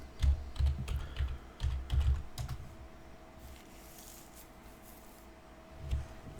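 Quick bursts of keystrokes clatter on a computer keyboard as a password is entered, in short clustered runs with pauses between, close and fairly soft in a quiet room.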